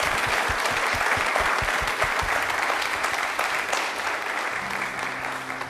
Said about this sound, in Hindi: तो तालियां एक बार